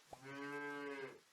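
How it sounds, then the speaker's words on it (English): A single cartoonish cow moo from the Super Auto Pets video game, a clear harmonic tone held for about a second after a short click, sounding alone and close. "A cow."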